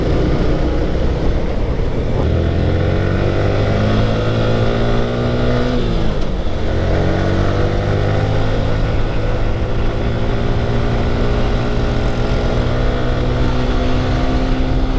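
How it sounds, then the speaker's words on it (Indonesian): A Yamaha R15 V3 motorcycle engine runs steadily with its VVA variable valve actuation switched on, a loud continuous close-up drone with a brief dip and rise in revs midway. "Ketika VVA nyala, mesinnya suara agak lebih keras, tapi tarikan kita masih enak."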